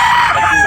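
A rooster at a chicken market in Carbon, Cebu gives a loud, close, short crow, a single strained call.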